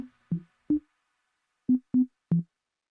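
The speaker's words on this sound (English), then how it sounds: "Another beep that follows a similar path to the lead." Six short, clean synth beeps from an arpeggio in a deep progressive house track, in a sparse pattern, pitched tones stepping up and down with brief silences between them.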